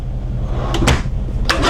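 A storage drawer inside a 2018 Newmar Ventana 4369 diesel motorhome slides open with a short wooden knock and rattle, followed by a second soft bump, heard alone and close.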